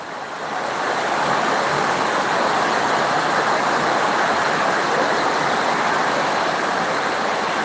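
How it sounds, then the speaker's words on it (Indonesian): Heavy rain roars steadily with a dense, continuous hiss and rushing water from roof runoff, loud and unbroken throughout. "Ini hujannya menjadi cukup keras lagi"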